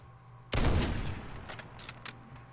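Sniper rifle fire in Call of Duty Modern Warfare, a single loud, sharp shot that booms and then rolls off in a long decaying tail, followed by faint mechanical clicks.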